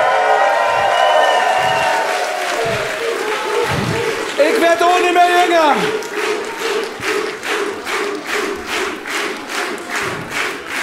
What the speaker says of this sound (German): Ich hab nichts dagegen, wenn ihr kurz noch länger jubelt